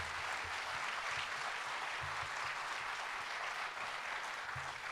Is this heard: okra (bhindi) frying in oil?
no